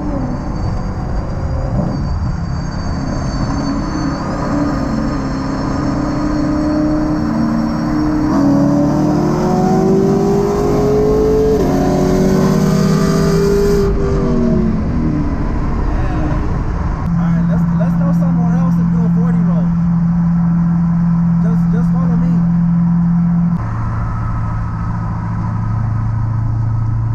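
A Camaro and a Corvette accelerate in a roll race, the engine rising and falling through gear changes with a steady drone in between, heard from inside the car with people talking over it.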